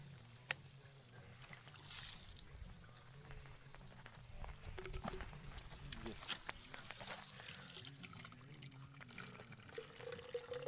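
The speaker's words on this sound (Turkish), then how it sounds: "Suyumuzu buradan takviye yapalım." Faint water runs from a tap as bottles are refilled during a mountain bicycle ride, with voices talking over the gentle splashing flow.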